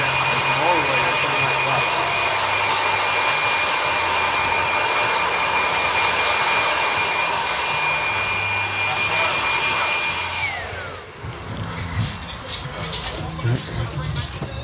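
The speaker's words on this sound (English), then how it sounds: "Okay, so we're just drying the hair." Hair dryer drying hair during a men's haircut, a loud, steady whir with a high tone that cuts off near the end, followed by softer handling sounds.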